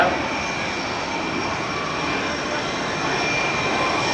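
Jet fighter aircraft roaring past at the Westover AFB airshow in 1990, a steady loud broadband engine rush that holds throughout without fading.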